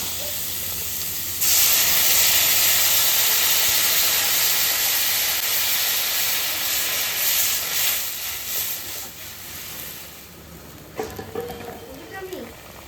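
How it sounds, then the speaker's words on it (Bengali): Water poured into a hot cooking pan sets off a loud, steady hiss of steam that slowly fades over several seconds. Faint voices and kitchen clatter follow near the end. "এইবার জল দিয়ে দেবো"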